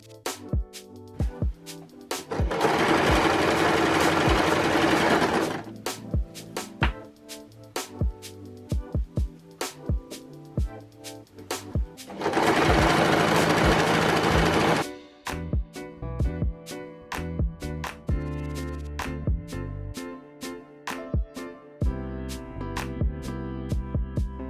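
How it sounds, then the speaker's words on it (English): A sewing machine stitches the hem and attaches trim on a batwing abaya dress in two sustained, whirring runs of a few seconds each, with soft background music between them. "I do my hem stitch and also attach the trim at the same time"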